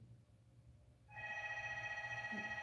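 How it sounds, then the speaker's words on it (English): A mobile phone rings with an incoming call, a steady warbling electronic ringtone that starts after a second of quiet background noise and continues at a moderate level. "That's my phone."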